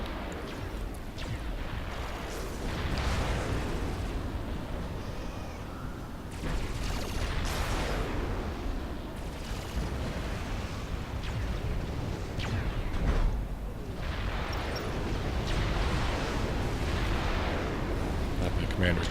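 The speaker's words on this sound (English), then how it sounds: "And he's getting bombed by a Tech 3 bomber." Battle explosions and bombing runs from a Tech 3 bomber in Supreme Commander, a continuous roar of heavy booms and rumbling blasts with repeated surges, loud and dense, while someone talks over it.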